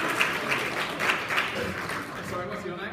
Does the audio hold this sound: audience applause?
yes